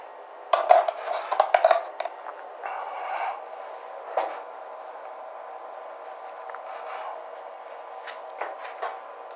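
Navy-style pasta stirred in a metal pot, with scraping, clinking utensil hits and scattered knocks, busiest at the start and then settling into quieter, irregular scraping.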